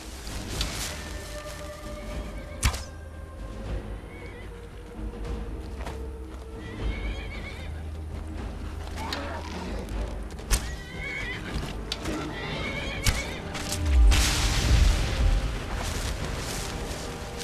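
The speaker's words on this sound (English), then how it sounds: "Damn horse is in the way." A horse whinnies several times amid clopping hooves and scattered thumps, with a loud rumbling burst near the end, in the video game Skyrim.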